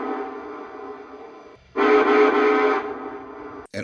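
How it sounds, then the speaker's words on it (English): A Lionel Vision Line Santa Fe 2-10-10-2 model train sounds its quilling whistle in one sustained blast of about a second, louder than the steady hum of the locomotive's sound system around it. "There's a quilling whistle"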